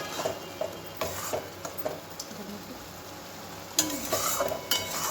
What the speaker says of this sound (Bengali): তো তার সাথে মশলাটাও কষিয়ে নেবো।